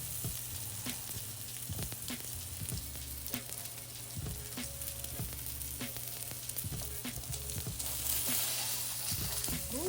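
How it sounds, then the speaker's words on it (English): French toast fries in butter and oil in a hot skillet, a continuous close sizzle with frequent sharp crackles and pops and an underlying low hum, moderately quiet and steady for the whole stretch, with no voices. "your second pieces are gonna cook faster because your skillet is hotter"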